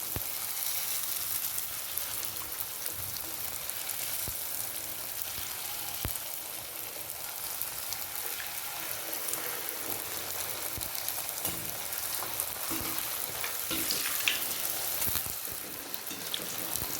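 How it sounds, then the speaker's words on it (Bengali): Fuchka puris dropped into hot oil and frying, a dense, even crackling sizzle that holds steady throughout with faint knocks, no voices. "তেল গরম হয়ে গেছে, একে একে ফুচকাগুলো দিয়ে দেব"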